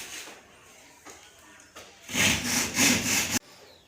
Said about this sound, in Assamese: খালি মই বটাল দি কৰিম